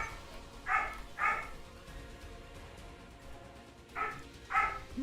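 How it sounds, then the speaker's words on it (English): A pet dog barks in pairs, two sharp barks close together, then a pause and two more, moderately near in an otherwise quiet room. "I apologize if you hear my dog barking."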